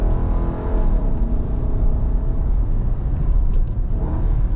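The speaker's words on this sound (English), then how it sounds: "it will blip the throttle on the downshift a little bit" A steady 2025 Nissan Patrol Warrior (Y62) SUV engine rumble with a brief rise in revs as it blips the throttle on a downshift, heard up close without anyone talking.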